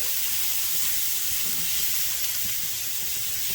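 Butter melting in a pan for beef stroganoff gives off a steady, soft sizzle and hiss, constant and unbroken with no talking.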